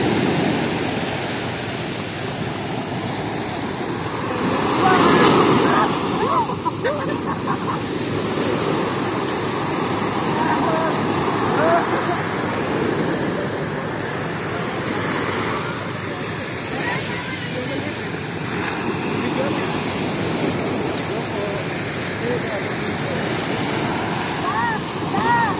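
Surf rolls onto the beach at Liwliwa, Zambales, a continuous broadband wash of breaking waves with a louder swell near the start, with wind buffeting the microphone throughout.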